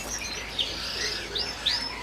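Parrot from Europe at a crowded bird market, giving short squeaky chirps and whistled calls at moderate distance over a dense din of many other birds.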